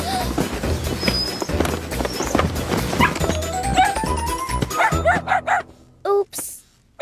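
Cartoon dog Sizzles barking and yipping in a lively animated scene, several sharp barks mixed with music and bustle, ending in a few isolated yips and a short whimpering sound near the close.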